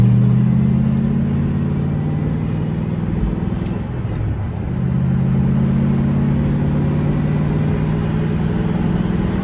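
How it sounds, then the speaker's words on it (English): A Ford Mustang Foxbody with a muffler-delete exhaust drives along, its deep engine drone loud and steady, pitch dipping briefly mid-pass before climbing again as it pulls away, no talking over it. "We did a muffler delete, so that's why it sounds like that now."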